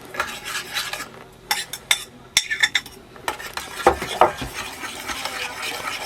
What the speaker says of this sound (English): Just going to put our mashed up bananas in now.